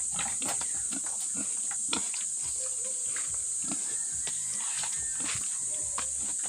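Backyard boar pig making repeated short grunts and snorts near a poultry pen, fairly faint and irregular under a steady high insect-like hiss, with some shuffling and scattered sounds.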